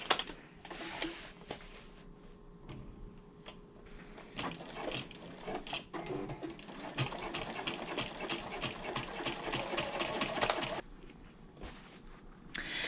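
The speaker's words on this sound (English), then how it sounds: "we are going to stitch these together at a 1/2 inch seam allowance right across the top here" A sewing machine stitches fabric pieces together at a half-inch seam across the top of a bag's front exterior, a light, rapid clatter running continuously and growing a little louder toward the end.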